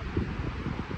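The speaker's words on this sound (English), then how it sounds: "It's pretty windy and cold." Cold wind gusting at an ocean shore, a steady roar buffeting the microphone with low rumbling bursts throughout the short moment, no talking.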